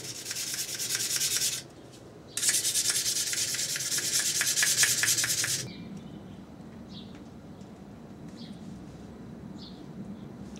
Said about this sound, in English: Just have a quick sharpening of my knife.